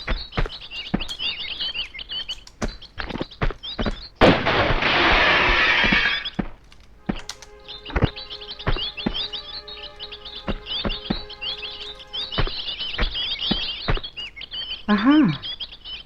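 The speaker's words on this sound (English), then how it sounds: "Man, the birds are loud." Loud chirping and tweeting birds in the Tomb Raider II prototype game, repeated calls running throughout with a burst of broadband noise around the middle and a squealing sweep near the end; no speech.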